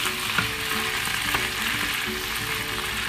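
Kale with smoked bacon sautéing and steaming in a pan, a dense, even hiss of frying and steam with faint occasional stirring clicks, steady and close throughout.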